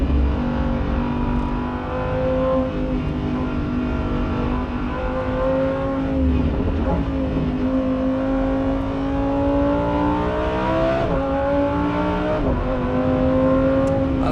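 A Lamborghini STO running on the Nürburgring, its loud engine note climbing and dropping repeatedly through gear changes and corners, with steady road and wind roar beneath and no talking.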